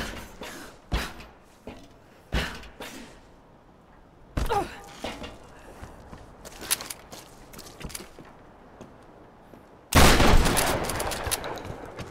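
Rifle gunfire in the video game Tomb Raider: a series of sharp single shots spaced irregularly, then a loud sustained burst near the end, with quieter game ambience between the shots.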